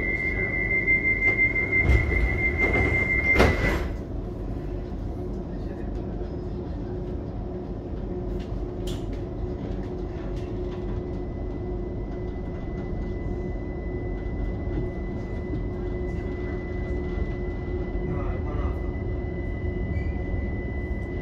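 Arriva Rail London class 378 electric train running, a steady rumbling drone of motors and wheels on rails with a brief louder burst and high tone near the start, then a continuous even roar.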